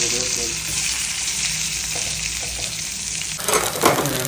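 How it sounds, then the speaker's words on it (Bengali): Garlic frying in oil for a fish curry with vegetables gives a loud, dense, steady sizzle. Near the end a burst of stirring clatter rises above it, and no one speaks. "রসুনটা দেওয়ার সাথে সাথে রসুনটা ব্রাউন হয়ে গেছে"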